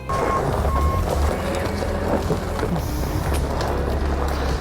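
A telehandler hired to load fire-damaged debris during a house renovation sounds its reversing alarm, a steady repeating beep over loud engine rumble and wind noise outdoors.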